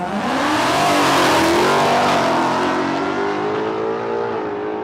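A Mustang drag car at Palmyra Raceway roars loudly and continuously at full throttle, its engine note climbing steadily as it pulls away down the strip, with no voices over it.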